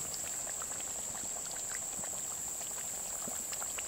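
Beef fat boiling in a pot while rendering tallow, a constant fine crackle of popping bubbles with a thin high sizzle running steadily underneath.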